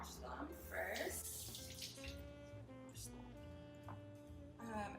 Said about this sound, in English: so we're going to wash them first.